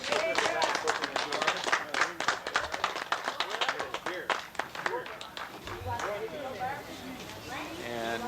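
Guests at a 25th wedding anniversary party clap for Jack, a lively burst of overlapping hand claps with cheering and chatter mixed in that fades into crowd talk.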